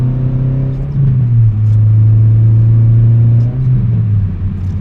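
A car engine revs up and holds a strong, steady drone as the vehicle accelerates to get around traffic, heard loud and close from inside, with the pitch rising briefly before settling.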